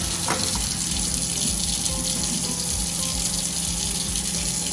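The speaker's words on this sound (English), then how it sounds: "So you should turn the cold water and you dump it out." Cold water runs steadily from a sink tap in a kitchen, a continuous close splashing stream with no pauses.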